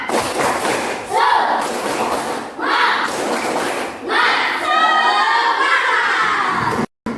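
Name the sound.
class doing a rhythmic spirit clap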